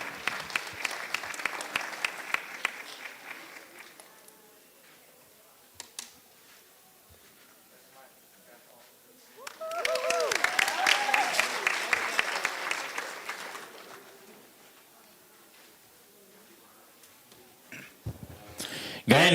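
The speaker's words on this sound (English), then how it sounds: "let's give all four of these a big round of applause" At a county steer and livestock show, an indoor crowd claps in two bursts, a fading round at first, then a fuller swell of applause midway, with scattered claps in between.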